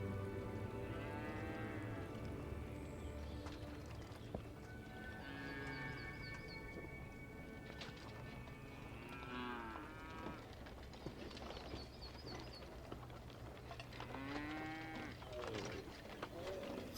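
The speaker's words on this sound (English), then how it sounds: "The chorus of birdsong, combined with bleating sheep and mooing cows" Cattle mooing in a countryside setting, several drawn-out moos scattered near and farther off over a steady rural ambience with faint birdsong.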